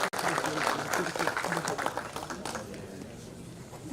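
Audience applause at an institute's silver jubilee celebration, a crowd clapping steadily and then thinning out toward the end, moderately loud, with some voices mixed in.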